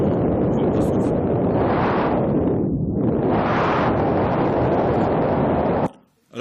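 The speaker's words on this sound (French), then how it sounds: "Voilà, un modèle de bruit de vent." Synthesized wind noise generated by a Faust WebAssembly model, a loud, steady broadband rush that swells and dips in gusts, with no voices, then cuts off abruptly near the end.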